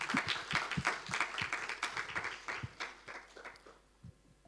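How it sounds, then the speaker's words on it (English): An audience at a computing talk on neurotechnology breaks into a round of applause, dense overlapping claps sustained loudly before thinning out and fading toward the end. "Can I get just a round of applause?"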